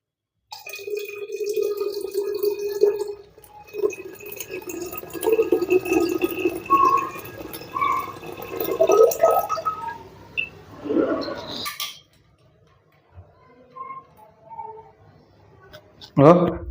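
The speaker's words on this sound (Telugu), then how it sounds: "మళ్ళీ కొత్త ఒక హాఫ్ లీటర్ వాటర్ అయితే యాడ్ చేద్దాం" Water poured into a home fish aquarium, about half a litre of fresh water added after some old water was removed, trickling and dripping steadily beneath near, continuous talking, then a quieter stretch with faint splashes.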